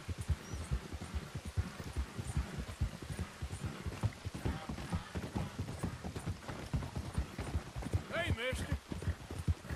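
Horse hooves clip-clopping in rapid, steady rhythm in Red Dead Redemption 2, close and continuous, with a few brief higher game sounds near the end.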